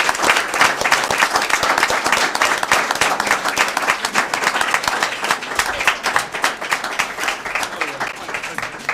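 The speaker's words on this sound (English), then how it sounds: "So if we can give these guys a round of applause." A large room of people at a board meeting bursts into sustained, dense clapping for the board members, loud and continuous throughout.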